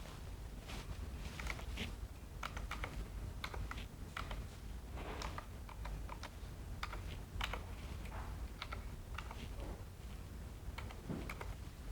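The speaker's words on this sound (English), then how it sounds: "I'm going to type this one right now." Rapid keyboard typing as a library card number is entered on a computer keyboard, steady irregular clicks of keys close by for about twelve seconds, no talking.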